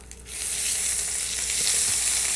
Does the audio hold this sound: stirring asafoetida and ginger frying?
yes